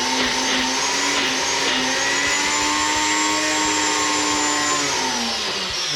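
A Ninja blender chops shepherd's pie ingredients, its motor roaring loud and steady with a high whining tone that sags slightly in pitch toward the end as the load shifts.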